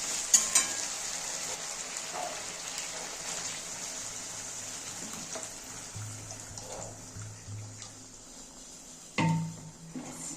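Fried potatoes and pointed gourd hiss and sizzle steadily in a pan for a Bengali-style curry, until water poured in near the end sets off a sudden louder surge of crackling.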